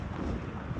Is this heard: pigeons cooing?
no